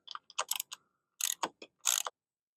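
A ratcheting tool tightens a roof rack mount on a Toyota Tacoma, giving several short bursts of crisp clicks separated by brief pauses, close and clear with no talk.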